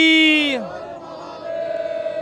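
A long leading call from one voice, answered by a crowd's loud ragged shout in a religious jaikara chant at a Shiva devotional gathering before the Amarnath Yatra in Nurmahal, the answer lingering as a sustained roar.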